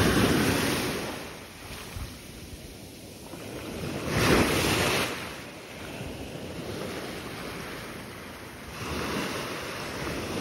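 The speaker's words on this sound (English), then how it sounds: "look, the waves are so big" Big ocean waves crash and roll onto the beach at San Pancho, Mexico, a steady surf roar that swells twice into louder breaks, with wind buffeting the microphone throughout.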